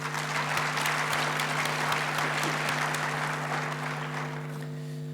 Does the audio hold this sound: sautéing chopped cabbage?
no